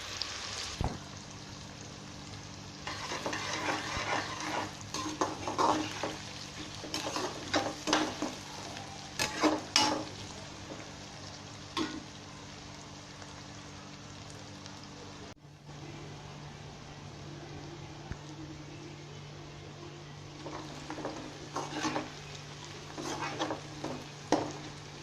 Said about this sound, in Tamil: ஒரு 5 நிமிஷம் நல்லா வெங்காயம் வதங்கட்டும்.